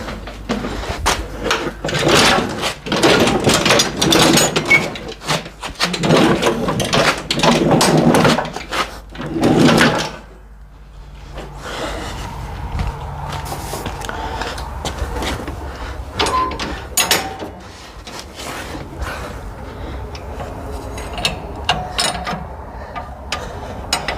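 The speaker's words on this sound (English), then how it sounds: "now you just be able to slide the deck out" A 48-inch mower deck is slid out from under a John Deere X380 lawn tractor, giving a run of loud, close scraping and clattering metal knocks for about ten seconds, then quieter shuffling and occasional clanks.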